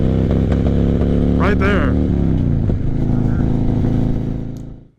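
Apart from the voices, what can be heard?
motorcycle engine sputtering from a badly tuned carburetor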